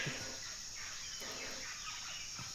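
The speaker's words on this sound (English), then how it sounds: "bird life is loud as hell" Loud turkey gobbling and fowl calls in modded Minecraft, repeated bursts over a dense, steady chorus of birdsong and jungle noise.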